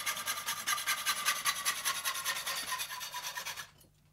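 A hand saw cuts through steel electrical conduit in quick, rhythmic rasping strokes, close and steady, each stroke scraping harshly before the cutting stops abruptly near the end.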